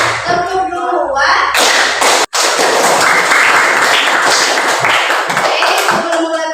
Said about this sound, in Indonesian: Tepuk 1 sampai 5 ya